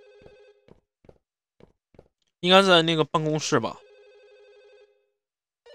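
A telephone rings with repeated short electronic trills, faint and steady, before and after a loud burst of nearby talk.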